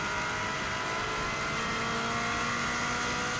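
A 2016 Subaru WRX STI accelerates hard at speed on the Isle of Man TT course, its engine note rising as steady loud road and wind roar fills the background throughout.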